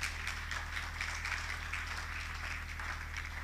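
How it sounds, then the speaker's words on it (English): An audience applauding at a lecture, steady moderate clapping from a crowd that fills the room throughout. "let us clap for them one more time"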